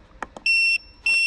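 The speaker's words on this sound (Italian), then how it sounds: "Cicalino, sarebbe questo che stiamo già sentendo" A Kingbolen BM580 car battery and alternator tester gives two soft clicks, then two loud, shrill electronic buzzer beeps, each about a third of a second long with a short gap between them, close by and with no talk.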